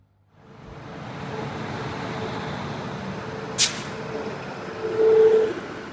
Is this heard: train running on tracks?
yes